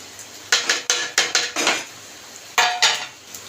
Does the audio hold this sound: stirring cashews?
yes